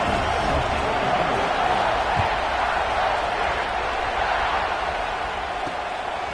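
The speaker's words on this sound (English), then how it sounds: "this crowd is buzzing after that last score" A football stadium crowd at a college game keeps up a steady, dense roar and murmur after a score, loud and continuous with no distinct cheers standing out.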